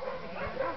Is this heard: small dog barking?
yes